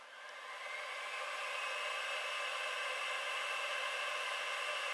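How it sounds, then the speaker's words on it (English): A fume extractor fan runs steadily at a bench during a phone repair. Its smooth, even hiss of airflow fades up over the first second, then holds as a constant near whir with no talk over it. "I'll turn the fume extractor back on just because I'm using this alcohol"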